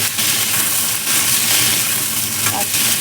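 Cauliflower pieces fry in hot oil in a pan, producing a loud, steady, close sizzle with soft stirring movement throughout and no talking.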